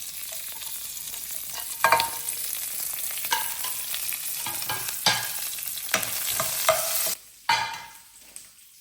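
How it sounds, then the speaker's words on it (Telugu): Curry leaves crackle in a ghee tempering with cumin and mustard seeds, the close, steady sizzle broken by sharp pops and the scrape of stirring. "నెక్స్ట్ తాలింపులోకి కరివేపాకుని యాడ్ చేస్తున్నాను"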